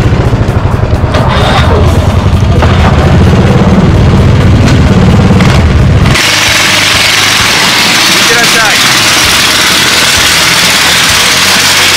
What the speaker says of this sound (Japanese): エンジン回してください